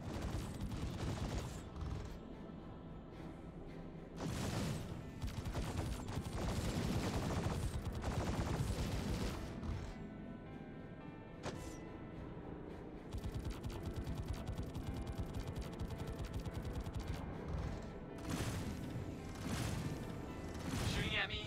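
Enemy gunfire in the space combat game Star Conflict, dense bursts of rapid shots and booming impacts rolling on almost continuously at fairly high level, with a voice talking over the action.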